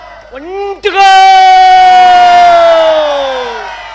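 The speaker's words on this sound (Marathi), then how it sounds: "तेही टाळ्या वाजवत आहेत" A crowd at a local cricket match breaks into a loud, sustained shout of cheering after a short rising call, the roar holding strong for about three seconds before slowly fading; clapping is not clearly distinct.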